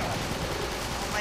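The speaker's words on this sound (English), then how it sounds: "Okay, just shoot this thing." Gunfire in the video game Resident Evil Darkside Chronicles, a dense, loud, continuous burst of shots packed into about a second, with no pauses.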